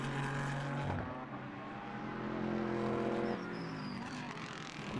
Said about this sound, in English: And so cars now heading out onto circuit, getting themselves a bit of track position